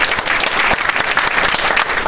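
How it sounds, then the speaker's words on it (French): A room full of people claps warmly at a Rotary club show in Brive, dense, loud, even applause sustained throughout without voices rising above it. "Je pense qu'on peut l'applaudir pour ça."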